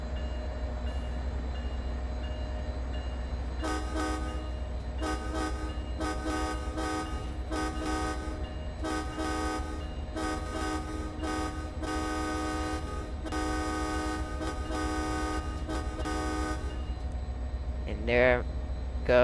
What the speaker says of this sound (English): Here I am, rail fanning my own train taking off.